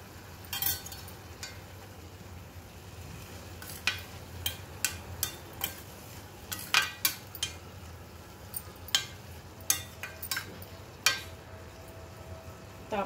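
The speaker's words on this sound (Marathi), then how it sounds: "हलवून घेऊ आपण।" Cabbage masala vegetable stirred in a pan, making a quiet series of irregular scraping clinks of a spoon against metal over low background noise, with no talking.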